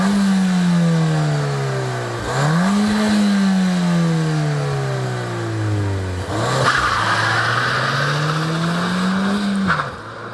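A 2015–2016 Ford Fiesta ST driven hard on a wet road, its engine revving up through the gears with clear pitch climbs and drops at each shift, loud and close inside the car.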